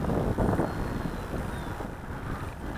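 Strong wind roars steadily across the microphone while a Freewing Rebel V2 RC plane is flown in high winds, a broad, rushing buffeting that stays loud and continuous throughout.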